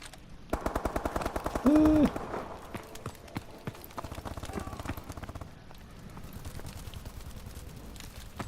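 Rapid bursts of automatic gunfire in Call of Duty: Advanced Warfare, Hardcore Team Deathmatch on the Terrace map, rattle close by in quick succession, pausing briefly, then resuming as a steady stream of shots.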